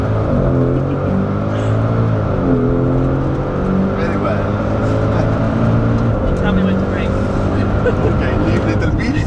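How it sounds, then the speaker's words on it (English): A Maserati car engine revs hard at full throttle for a launch from the brake, a loud sustained drone with rising and falling pitch heard from inside the cabin while people talk over it. "Okay, full throttle, yeah, full throttle, gas, leave from the brake."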